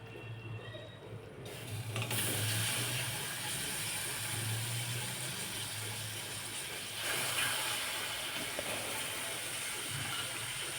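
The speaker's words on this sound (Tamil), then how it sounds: "கனவா போட்டுக்கலாம்." Squid hits a hot pan with curry powder and spices. A sudden broad sizzle bursts in and carries on as a loud, even hiss close by, with no voices.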